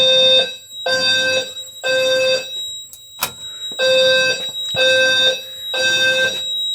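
A fire alarm sounds during an emergency systems test, blaring a loud, tonal horn in regular pulses of roughly half a second, six blasts with a brief gap and a sharp click midway.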